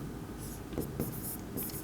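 A pen writing a cash account entry in a ledger for a Bengali accounting lesson: a few quick, soft scratching strokes, close and faint, with no voices.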